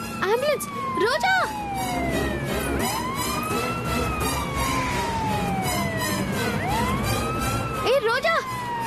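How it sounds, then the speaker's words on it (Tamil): An ambulance siren wails, rising and falling in long sweeping tones across the whole stretch, with a voice calling out loudly several times near the start and end. "ஆம்புலன்ஸ் வருது, நில்லு."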